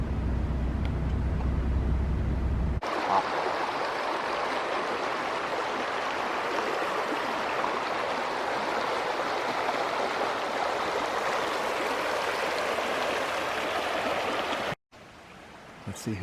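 A mountain creek rushes and splashes in a steady broadband wash of flowing water, loud and close, with a brief low rumble at the start and a sudden cut near the end.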